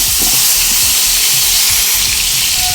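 Pointed gourd and pumpkin pieces frying together in hot oil for masala khichuri, giving a loud, continuous sizzling hiss close up, with faint stirring knocks underneath and no voices.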